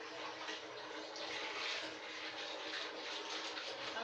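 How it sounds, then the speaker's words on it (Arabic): Water running into a bowl from a tap in a kitchen, a steady faint splashing rush that lasts throughout, with no talk. "ثانيه واحده نجيب شويه ميه في البوله"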